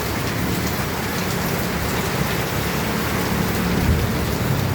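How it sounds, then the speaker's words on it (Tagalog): Heavy, steady rain pours down in a dense, continuous roar, close and loud with no voices. "Pag tumila yung ulan."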